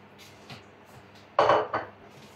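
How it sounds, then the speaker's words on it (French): A utensil scraping and knocking in a bowl while gently folding feta and courgette cake batter, a few soft taps followed by a louder pair of clattering scrapes, close and quiet otherwise. "On mélange tout doucement, sans rien d'aller trop fort"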